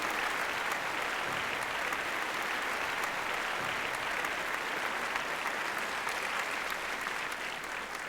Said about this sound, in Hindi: ज़ोरदार तालियों से इस्तकबाल कीजिए मोहतरमा मुमताज़ नसीम साहिबा का